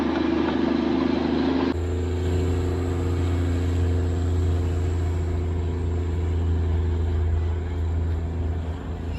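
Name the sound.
Darjeeling train moving toward Ghum station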